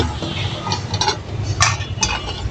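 Dried ribbonfish stirred and fried on a flat tawa over a stove, with scattered scraping clinks of a utensil against the pan over a steady low background hiss.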